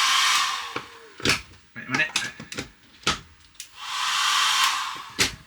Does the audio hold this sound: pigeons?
no